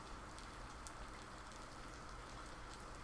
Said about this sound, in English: it's kind of a gloomy, rainy day here